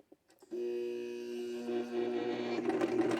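A Brother VX 1100 sewing machine starts after a couple of clicks and stitches in reverse with a steady close motor whir, its rhythmic needle chatter growing busier toward the end.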